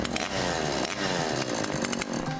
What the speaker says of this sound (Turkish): Nerede o testere nerede?